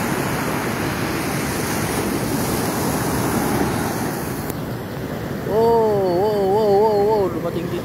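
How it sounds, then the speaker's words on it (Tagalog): Ocean waves at Sabang Beach wash steadily ashore in a broad, continuous roar with wind noise on the microphone, and a voice speaks over the surf near the end. "ang ating alon."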